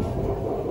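A moving passenger train roars at the connection between carriages, a loud, continuous low rumble with rattling and no voices.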